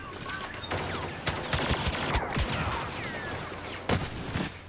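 Infantry turret firing in the Star Wars Battlefront video game on Bespin, a rapid series of sharp blaster shots in uneven bursts, with distant battle noise and whooshing effects mixed in behind.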